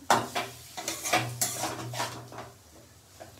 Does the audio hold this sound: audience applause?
no